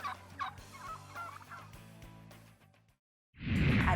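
A turkey gobbles in a few quick, rattling bursts over a quiet background; the calls fade into a brief silence before a loud, broad burst of noise.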